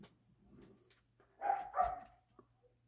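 A dog indoors gives two close, loud barks in quick succession, followed by a faint yip, over a low steady hum.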